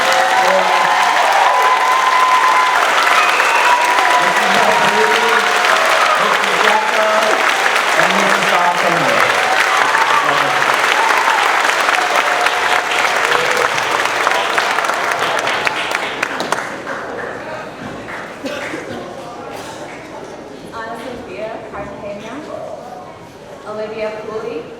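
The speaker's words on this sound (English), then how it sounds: "How about a round of applause?" Sustained applause fills a sixth-grade recognition ceremony in a school hall, loud and dense for about fifteen seconds before thinning out into scattered claps and quieter room noise.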